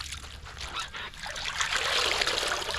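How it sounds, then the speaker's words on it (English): Water trickles and splashes steadily and close by as cabbage halves are soaked in salty brine for Korean kimchi, the wet sloshing growing slightly louder toward the end. "completely soak these cabbage halves"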